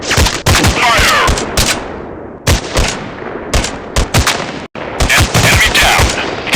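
Dense, loud gunfire in the mobile FPS game Gun Shooting Strike War 2, with rapid bursts and single shots overlapping almost continuously and only brief gaps.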